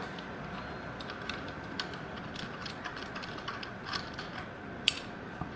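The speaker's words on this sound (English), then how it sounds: "put it on there, tighten the screws on here" Screws being tightened by hand on a Fiesta ST throttle body, faint close ratcheting clicks and small metallic ticks over a quiet background hiss.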